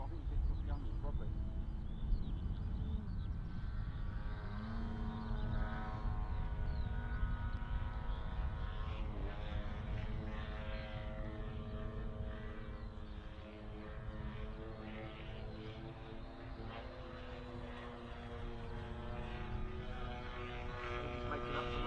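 A model Extra 300 aerobatic airplane flies at a model airshow, its engine drone rising and falling in pitch as it maneuvers, steady and moderately distant, with people talking over it throughout.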